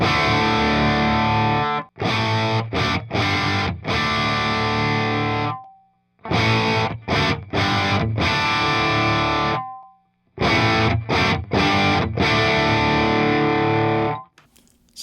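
Distorted electric guitar played through a Fryette ZMACS 4x4 impedance-matching amp selector at 4 ohms, heavy chugging riffs in three loud bursts separated by short silences, with a brief ringing tail at the end.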